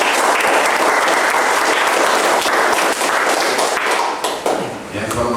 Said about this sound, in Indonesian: Kita berikan tepuk tangan Bapak Ibu.